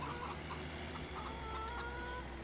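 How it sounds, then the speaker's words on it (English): Hens cluck softly in Farming Simulator 17, scattered short clucks over a steady ambient hum, faint and somewhat distant. "Excuse me, hens."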